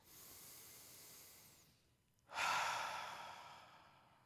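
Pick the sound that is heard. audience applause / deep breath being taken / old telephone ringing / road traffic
deep breath being taken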